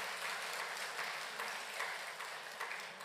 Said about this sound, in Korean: 우리 박수 좀 해주세요. 우리 어르신들을 위해서.